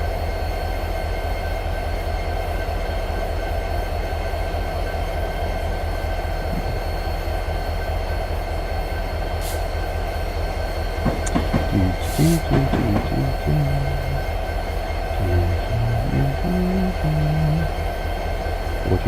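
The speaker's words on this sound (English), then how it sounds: "The train is already moving." A diesel train rolls along in Train Simulator 2017, a constant low engine drone and rumble with light clicks from the wheels. A voice speaks briefly near the end.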